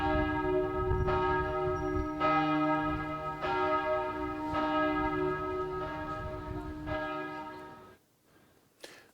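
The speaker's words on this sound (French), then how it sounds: "Partout en Suisse, les cloches ont sonné sur le coup de 14 h" Church bells in Switzerland toll at 2 p.m. in a moment of remembrance, several bells overlapping in a steady rhythm of strikes with long ringing decay, fairly loud and continuous before fading into near silence at the end.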